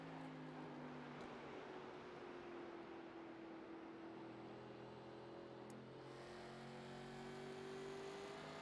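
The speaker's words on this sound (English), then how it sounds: "I'll tell you what, Josh, these cars do sound good too." NASCAR stock cars racing at The Rock in iRacing, a steady mid-pitched engine drone with slowly rising and falling tones as several cars run together, continuous and fairly loud with no talk.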